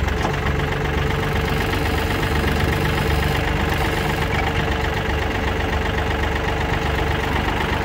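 A Yanmar FX265 compact tractor's 26 hp diesel engine idles steadily close by, a constant rhythmic knocking hum that stays at the same level throughout.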